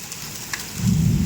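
Heavy rain and large hailstones drumming steadily on a surface, with a deep roll of thunder swelling up toward the end.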